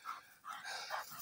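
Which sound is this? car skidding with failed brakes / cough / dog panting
dog panting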